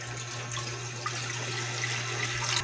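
Water pours steadily into a cooking pot for fish soup with a continuous splashing hiss, accompanied by a low constant hum in the background.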